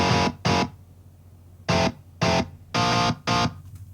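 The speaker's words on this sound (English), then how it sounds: "I think the bridge pickup sounds great for chords with the distortion because it really cuts through." Distorted electric guitar chords on a D'Angelico guitar's bridge pickup, strummed in short, punchy bursts with gaps between, loud and close, six stabs in a choppy rhythm.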